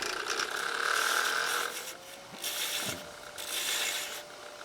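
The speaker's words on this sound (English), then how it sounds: "now I'll start working with Ellie's wonderful skew" Skew chisel cutting wood on a lathe while turning trimblers, a steady scraping hiss with mechanical chatter, rising and falling in loudness over several passes, close and alone.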